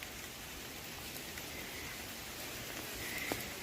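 Rain falling on ferns and garden plants in summer, a steady soft patter of drops on leaves, close and continuous, with no voices.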